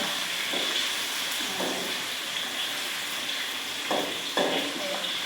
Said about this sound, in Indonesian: Aku numis kangkung, Firdan goreng tahu.